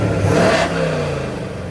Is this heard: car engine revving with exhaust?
yes